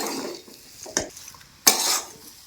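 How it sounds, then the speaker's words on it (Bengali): A spoon stirs ground peanuts into a vegetarian vegetable chop filling in a pan, with scraping strokes and two sharper clinks against the metal, close up and without talk. "বাদামের গুঁড়োগুলো দিয়ে ভালো করে আমি মিশিয়ে নিচ্ছি"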